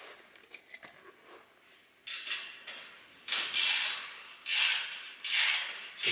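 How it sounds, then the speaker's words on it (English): A nut is tightened on an interrupted thread to compress a grounding wire on a high-voltage cage. Close metallic scraping and rasping comes in several bursts, quiet at first and then louder, with no talk. "So now we'll compress that wire down."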